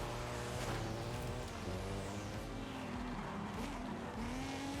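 Pulsar car in Forza Horizon 5 revving hard and accelerating, its engine and exhaust note climbing through gear changes with rising, falling pitch sweeps and some tire squeal, loud and continuous throughout.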